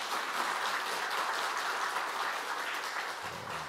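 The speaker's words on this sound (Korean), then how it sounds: "예, 큰 박수 한번 주십니다." A church congregation at a revival service gives a big, continuous round of applause, dense and even throughout, with no voices over it.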